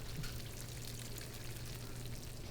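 Fish stock pours steadily into a pan of shrimp piccata sauce, a soft continuous wash with a low simmering hiss underneath, moderately close.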